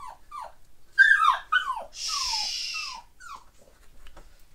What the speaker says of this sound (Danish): Så nu er der en lille hund, der er sulten.